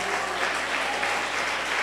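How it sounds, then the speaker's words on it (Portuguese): A church congregation applauds steadily, a dense even wash of many hands clapping throughout. "Aplaude a Jesus por isso."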